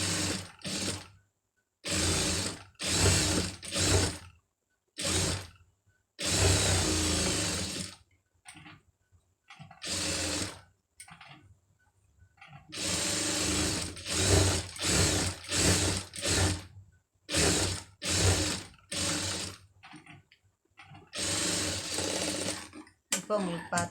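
A sewing machine stitches a patch onto a sleeve in repeated short bursts of rapid mechanical whirring, close and loud, separated by brief pauses.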